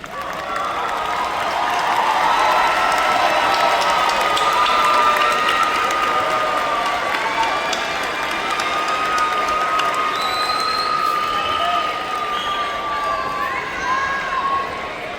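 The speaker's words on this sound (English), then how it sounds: "stand and offer your applause and appreciation to those here who made this journey with you today" Graduates at a university commencement ceremony in Atlanta stand and applaud, with cheering voices and crowd noise, as a sustained, loud wash of clapping fills a large hall for about fifteen seconds.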